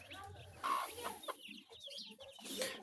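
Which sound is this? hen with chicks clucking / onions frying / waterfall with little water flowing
hen with chicks clucking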